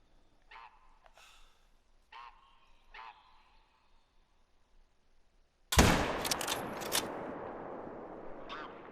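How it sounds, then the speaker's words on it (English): A single loud rifle shot fired while hunting rings out after a few goose-like honks, its sharp blast followed by a rolling echo that fades as the honking resumes. "these guys probably definitely heard the gunshot"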